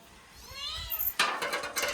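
A cat meows with a rising, wavering cry, followed by sharp rustling and knocking noises close by.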